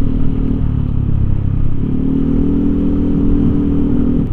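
Yamaha NMAX 155 scooter fitted with a TZM free-flow racing exhaust, idling or running steadily nearby with a loud, deep, throaty drone and slight revving, no voices.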